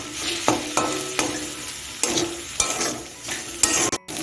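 A chopped prawn filling for stuffed teasel gourd is stirred in a frying pan. A spatula scrapes and knocks at irregular intervals over a steady, close sizzle.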